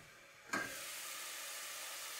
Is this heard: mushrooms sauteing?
yes